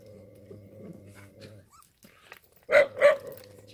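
Puppies and their mother dog squabbling over food: low rumbling growls for the first second and a half, then a pause, then two sharp, loud barks close together near the mic.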